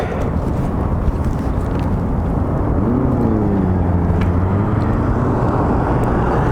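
An adventure motorcycle cruises at highway speed, a loud, constant rush of wind and engine drone, with a low steady tone sliding slightly in pitch partway through, and no talking.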